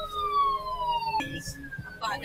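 A fire truck siren wails loudly in falling tones, breaks off, then sounds again with a lower wail, close by, over traffic and brief voices at a fire in Pasig City.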